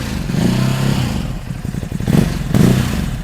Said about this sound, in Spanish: así es como suena una Ducati Hypermotard o Hypermotard 950 SP